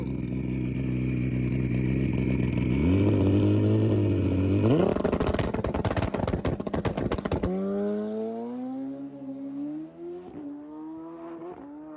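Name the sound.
700 HP Suzuki Hayabusa drag motorcycle making a pass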